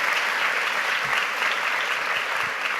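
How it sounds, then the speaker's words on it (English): Audience at a C40 climate gathering applauding, a dense sustained round of clapping from many hands, loud and even from start to finish. "Let's give another round of applause to Secretary Guterres."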